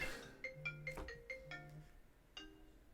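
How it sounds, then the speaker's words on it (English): A phone rings with an incoming call, a short melodic ringtone of bright chiming notes repeating in quick phrases, fairly quiet and clear, with no talking over it. "So I'm just getting a phone call through."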